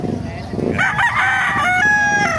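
A rooster crows loudly and close by at the Bocaue market, one long rising call over chatter and low crowd noise.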